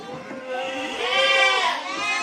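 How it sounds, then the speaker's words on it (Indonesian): A Boer goat in a farm pen lets out a loud, drawn-out wavering bleat close by, preceded by softer bleats. "Boleh Mas Budi kita lihat kambing bur yang lainnya lagi."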